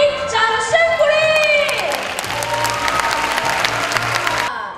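An audience applauds at a Taitung children's talent show after a countdown ends a school gymnastics team's pommel horse act. The dense clapping and crowd noise swell after a brief tonal opening, then stop abruptly.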